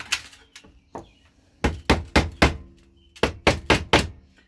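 Repeated hammer-like knocks on a Kawasaki KE102 crankcase as it is struck to break the gasket free, sharp close thuds in a loose run of single hits and then two quick bursts of four strikes.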